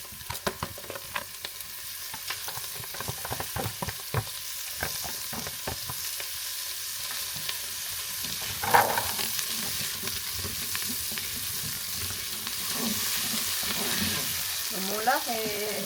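Lard sizzles and crackles steadily in a pan with golden-browned onions, stirred with repeated spatula scrapes and occasional clicks against the pan, close and fairly loud throughout.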